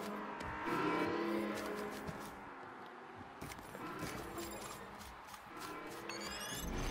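A vehicle engine in the video game Destruction AllStars revs amid busy game effects, with sharp clicks and whooshes over a rising and falling motor drone, fairly quiet throughout.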